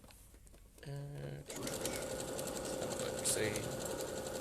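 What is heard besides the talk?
sewing machine stitching pineapple quilt blocks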